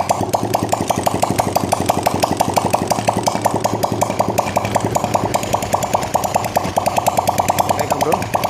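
A four-stroke motorcycle engine runs with no exhaust muffler, giving a loud, close, rapid and steady staccato idle throughout.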